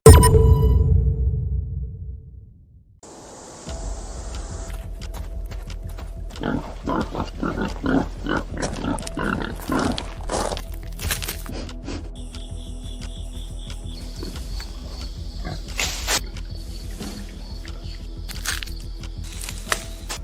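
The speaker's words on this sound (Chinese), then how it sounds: "原来是3只小猪崽儿，还没我家狗大呢！" Wild piglets grunt and squeal in quick repeated bursts, close by, with rustling and soft clicks around them after a low rumble at the start.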